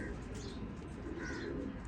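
A racing pigeon coos softly and repeatedly nearby, low rolling calls mixed with faint chirps from other birds in a loft, with a voice murmuring faintly in the background.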